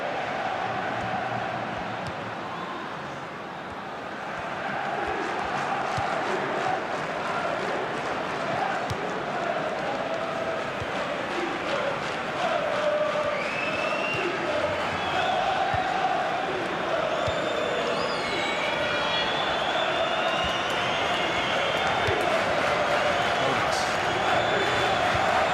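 Simulated stadium crowd from FIFA 16, a Champions League semi-final first leg between SL Benfica and Aston Villa on PS4, keeps up a steady loud roar and cheering throughout, with commentary voices mixed in.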